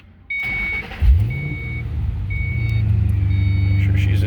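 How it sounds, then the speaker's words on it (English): A supercharged 2005 Ford Mustang Saleen S281 coupe cranks over with a rising starter whirr, catches, and settles into a deep, steady idle rumble, recorded close with the hood open. "We'll get her fired up here"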